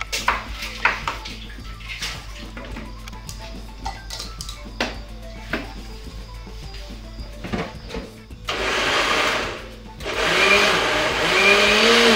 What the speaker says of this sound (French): on va les mixer tous avec la tomate aussi